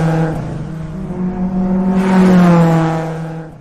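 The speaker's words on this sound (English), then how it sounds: "Racing car." A racing car engine revving hard, a loud, sustained buzzing roar that dips slightly then swells again as it accelerates, with no voices.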